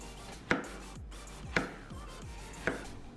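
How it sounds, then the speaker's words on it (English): Three crisp knife chops through zucchini land on a cutting board about a second apart, close and clear against a quiet kitchen background. "Chopping up the zucchini."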